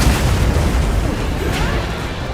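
A placed bomb detonates in Monster Hunter Wilds with a loud, heavy boom, followed by a sustained rumbling roar that stays strong and broad for the rest of the moment.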